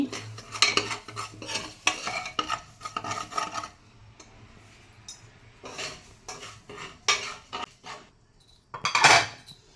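Rice grains for puffed rice (muri) are stirred in a pressure cooker with a utensil, making rough, rhythmic scraping and rasping strokes in close bursts, with a short pause in the middle and a final loud scrape.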